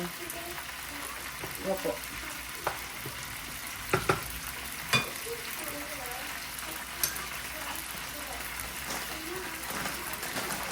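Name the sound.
food frying in a pan while cooking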